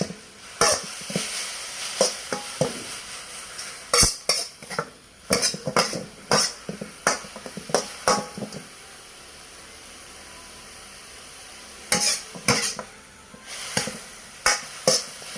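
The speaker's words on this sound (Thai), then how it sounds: "นี้กำลัง คั่วหมูอย่าง เยอะแล้ว ครับ" Minced pork for Isan larb is stir-fried in a pan, with a steady run of close metallic spatula scrapes and clinks over a faint sizzle, then a pause before the stirring resumes.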